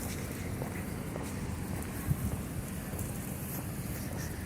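Wind gusts outdoors during a walk toward a Kaufland supermarket, rumbling steadily against the microphone as a constant low buffeting, with no talking.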